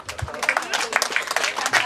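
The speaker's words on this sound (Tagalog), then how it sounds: "A big round of applause, please." Applause at a wedding reception for the bride's parents, brief scattered clapping from a gathered crowd mixed with voices over a steady room murmur.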